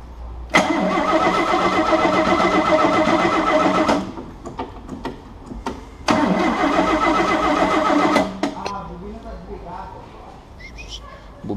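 A rebuilt six-cylinder Chevrolet Opala engine cranks and fires, running in two loud sustained bursts with a pause between, then idles more quietly as a voice speaks over it.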